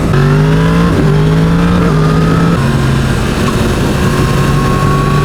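Yamaha MT-10 SP motorcycle engine accelerating hard on a road out of braking, loud and close, with rising harmonic engine tones that climb and drop through gear changes over steady wind noise.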